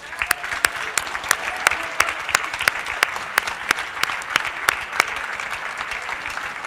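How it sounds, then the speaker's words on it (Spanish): A legislative chamber audience applauds a women's choral ensemble, continuous close clapping with sharp individual claps standing out in an uneven rhythm, loud and mostly free of talk. "las despedimos con un gran aplauso"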